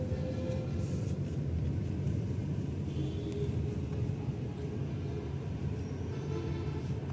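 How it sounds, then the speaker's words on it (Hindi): Tata Nexon rolling in second gear through city traffic with light throttle, a steady low engine and road rumble heard from inside the cabin, even and continuous throughout. "गाड़ी सेकंड गियर में चल रही है अभी."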